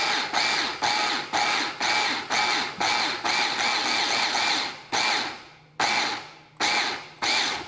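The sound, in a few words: Cuisinart Smart Stick hand blender chopper motor running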